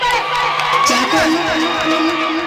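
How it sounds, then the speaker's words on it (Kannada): A theatre audience at a Kannada village stage play, Gudugu Hodeda Garuda, cheers and whoops loudly, with shouting voices rising over the crowd noise for a few seconds. "ಹೊಡ್ರಿ ಚಪ್ಪಾಳೆ"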